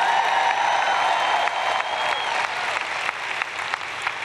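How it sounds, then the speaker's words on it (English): Congregation applause during a televised church sermon, a steady dense clapping that holds at full strength throughout, near and loud, with no talk over it. "I guess I'll say it till I can get a better clap than that."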